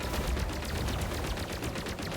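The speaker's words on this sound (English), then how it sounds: "the charge fire doesn't seem to be that great either" A rapid, dense rattle of shots from the charge fire in Wildblue Skies, with continuous loud shooting and no pause.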